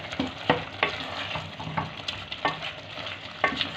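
Minced beef keema sizzles in a pan as whole spices and whole coriander seeds are stirred through it. Close, rhythmic scraping strokes sit over a steady frying hiss, with no talking.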